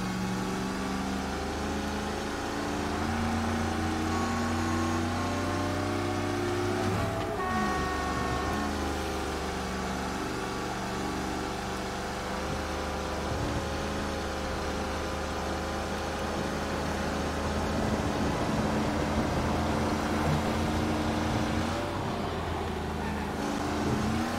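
Car engine in the video game Mafia Definitive Edition, a continuous low droning hum of steady driving with occasional shifts in pitch as speed changes, close and unbroken by talk.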